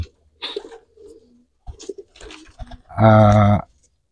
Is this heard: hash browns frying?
no